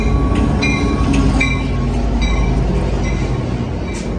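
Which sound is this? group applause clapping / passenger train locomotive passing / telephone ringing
passenger train locomotive passing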